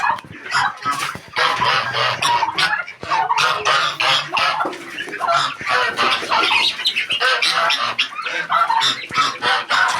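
A dense flock of chickens clucks and squawks continuously and loudly at morning feeding, with occasional rooster-like calls rising above the busy chatter.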